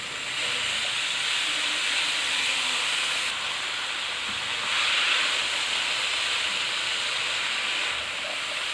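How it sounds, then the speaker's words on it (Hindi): Chicken and vegetable spring roll filling cooks on high heat in a pan, giving a loud, steady sizzling hiss that swells slightly midway. "तेज़ आंच पे हम इनको बस 2-3 मिनट के लिए पका लेंगे"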